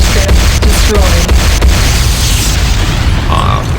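Airstrip building blowing up in a real-time strategy video game, a loud continuous rumbling explosion with crackling bursts and debris, sustained at steady high level throughout.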